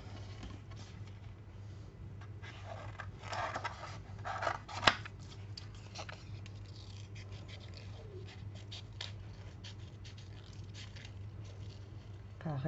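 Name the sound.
scissors cutting out a paper flower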